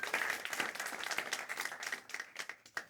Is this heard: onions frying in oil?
no